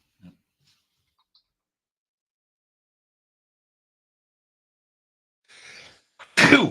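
A sharp sneeze bursts out at the end after near silence, preceded by a brief breathy intake.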